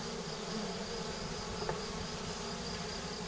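A honeybee swarm near a hive gives a steady, dense, loud buzz of many insects that holds even throughout, close by, with no talking.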